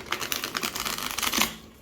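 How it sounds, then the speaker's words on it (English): Riffle shuffling a thick cardstock Wandering Moon tarot deck by hand, a quick rapid flutter of cards snapping together for over a second, then fading out, close and clear. "So as always, I will be riffle shuffling this deck."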